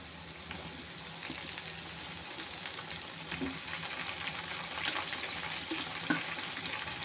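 Tomatoes hit hot oil alongside softened eggplant and onion, giving a continuous close sizzle with scattered pops and crackles that grows slightly busier as it goes.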